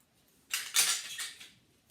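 Scissors snipping away excess contact paper during a flower art craft, a short burst of crisp cutting and paper rustle lasting about a second, close and quiet.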